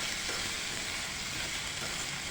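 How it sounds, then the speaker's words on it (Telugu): Ivy gourd (dondakaya) pieces fry on a low flame for curry, a steady, faint, even sizzle and hiss running throughout with no breaks and no voices. "మంట స్లిమ్లో పెట్టి దూరగా వేయించుకోండి."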